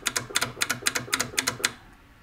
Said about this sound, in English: It's clicking and it's activating, but it's not passing current through.